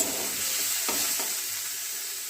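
Spinach greens salted and frying in a hot pan, giving a steady bright sizzle with a couple of short scraping stirs near the middle, close and alone.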